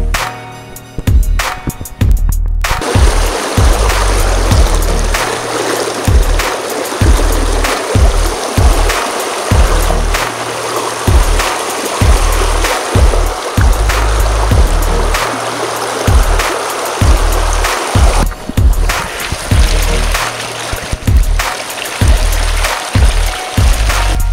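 A trout brook in Connecticut flows in spring, a loud, steady rush of water with splashes and rhythmic knocks and thumps close to the microphone.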